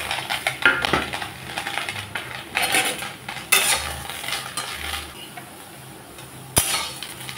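Yardlong beans dry-roasting in an empty pan with garlic and green chilies, stirred with a metal utensil that scrapes and clinks repeatedly against the pan, close up and without talk.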